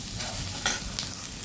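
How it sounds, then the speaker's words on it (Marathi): Coconut, onion and tomato masala sautéing in a pan for paneer masala, with a steady soft sizzle, stirring scrapes and faint clinks close by, no voices. "हे छान परतून घ्यायचं."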